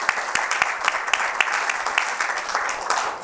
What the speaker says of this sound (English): can we applaud that?